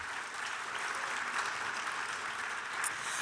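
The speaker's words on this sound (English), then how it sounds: "How about a warm round of applause for our trustees tonight?" Steady, dense applause from a concert audience at a live glee choir show, filling the hall evenly throughout with no pauses or voices on top.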